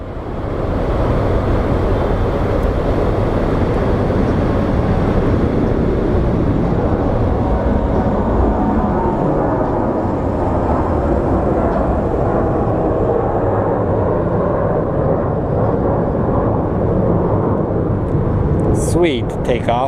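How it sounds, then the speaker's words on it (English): A jet airliner taking off at Phoenix Sky Harbor airport, a loud continuous roar that holds steady for the whole stretch, with a person talking over it. "Sweet takeoff."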